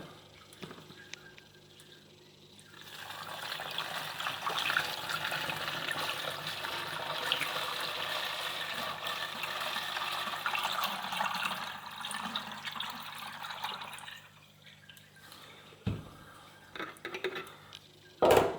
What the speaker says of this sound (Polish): Możemy wlać wodę.